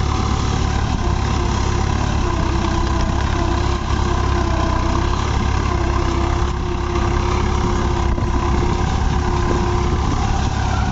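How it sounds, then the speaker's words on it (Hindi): A New Holland 3630 4WD tractor engine idles steadily at around 1500 rpm, a loud, continuous low rumble with an even hum that holds unchanged from start to finish, with no voices. "और ट्रैक्टर की आवाज़ देखो कितनी प्यारी है"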